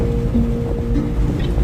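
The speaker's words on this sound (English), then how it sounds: "So that's what it sounds like when you're driving with the roof open" Wind and road noise inside a Ford Bronco Badlands on 33-inch tires, driven with the roof open: a loud, steady low rumble and rush of air with faint tonal hums, continuous and close.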